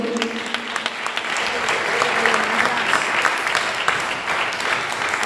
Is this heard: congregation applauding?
yes